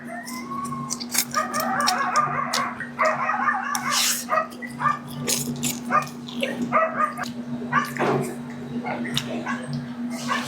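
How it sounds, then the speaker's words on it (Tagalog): Several dogs bark repeatedly at a noisy spot, with chickens clucking and a rooster crowing among them, while people talk quietly in the background. "Ang ingay ng mga aso eh."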